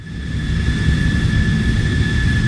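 Airplane flying overhead, a steady broad engine roar with a constant high whine, loud and unbroken throughout with no voices.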